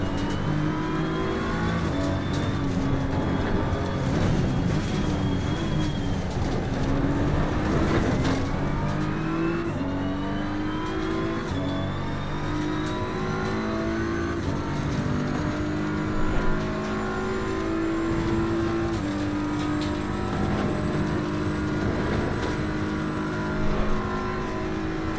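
A BMW M4 GT3 race car in the Assetto Corsa Competizione video game, lapping Bathurst: loud, continuous engine roar rising and falling through gear changes, revving hard with shifting harmonic pitch throughout, no talking.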